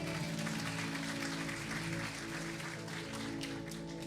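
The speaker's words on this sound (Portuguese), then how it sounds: "Pode aplaudir." A church audience applauds after a sermon, a dense steady wash of clapping that stays loud throughout and eases slightly toward the end, with no speech over it.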